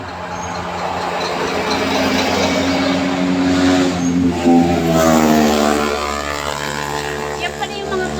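Loud engines roar and rev steadily throughout, with rising and falling pitch as vehicles pass close by, motorcycles among them, over a constant rumble.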